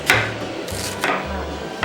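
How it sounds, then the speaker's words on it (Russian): White cabbage being finely shredded with a knife on a board for borscht, giving four or five sharp, close chopping knocks at an uneven pace. "Далее нам остается мелко нашинковать белокочанную капусту"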